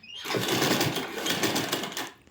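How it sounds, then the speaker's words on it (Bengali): A sewing machine runs steadily while stitching a zipper onto a gopi dress, giving a close, continuous fast mechanical whir for about two seconds that starts and stops abruptly. "এবার দুটো মাথাকে আমি একসাথে জোড়া করে সমানভাবে একটা সেলাই দিয়ে দেবো"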